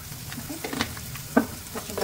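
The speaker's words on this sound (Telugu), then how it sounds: "కొంచెం ప్రెస్ చేసుకొని బాగా ఫ్రై చేసుకోవాలి." Onions and tomatoes fry in a pan, giving a steady low sizzle broken by a few louder stirring scrapes and bursts, close by with no talking.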